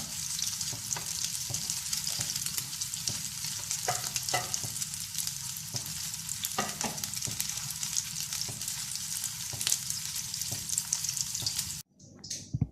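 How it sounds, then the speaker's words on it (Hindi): Peshawari chapli kebabs frying in a pan over a low flame, a steady close crackling sizzle that runs unbroken for the whole stretch and cuts off abruptly near the end. "ये देखें व्यूअर्स, ये चपटी कबाब फ्राई हो गए हैं"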